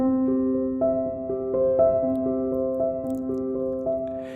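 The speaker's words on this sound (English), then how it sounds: "And with pedal, it sounds like this." Piano chords played with the sustain pedal in a repeating pattern ring into one another, notes held and blending smoothly, played alone at moderate volume.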